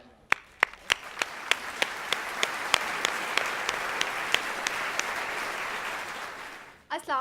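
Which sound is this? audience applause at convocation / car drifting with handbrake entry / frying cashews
audience applause at convocation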